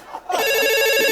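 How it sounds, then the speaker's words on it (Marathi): A telephone ringtone starts after a brief quiet moment and keeps ringing steadily and loudly as a bright, sustained tone through to the end. "आला आला आला वसाडीचा फोन आला."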